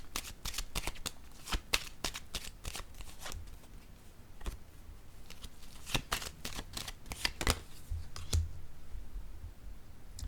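A deck of playing cards is shuffled close by, giving a quiet, irregular series of crisp riffling clicks and snaps across about ten seconds.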